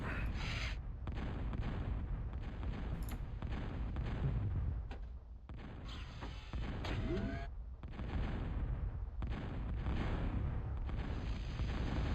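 A bomber's bombing run in Total Annihilation sets off a string of deep booming explosions that rumble heavily, with brief gaps between blasts.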